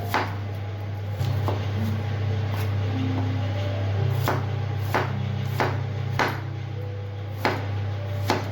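A knife cuts onions for homemade Hakka noodles, giving sharp, separate thuds on a board at an uneven pace over a constant low electrical hum.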